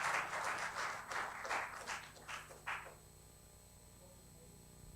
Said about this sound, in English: So you could start by clapping for yourselves for braving today.